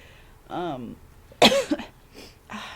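A person coughs indoors, a few short harsh bursts with a sharp loud one in the middle, mixed with brief voiced sounds in a quiet room.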